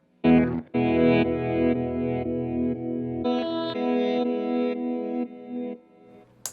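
Electric guitar run through an OBNE Expression Ramper effect pedal with the B position turned all the way up: sustained chords that swell and shift in a modulated, distorted wash, fading out with a brief noise at the end.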